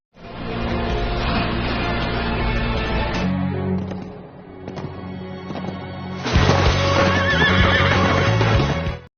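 A horse ridden by a soldier gallops and neighs loudly, a long whinny over pounding hooves, then a brief lull with scattered clatter before a second loud neigh and hoofbeats return.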